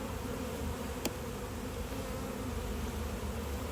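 Honey bees hum in a steady, dense drone throughout an open-hive inspection, with one brief sharp click partway through and no talking.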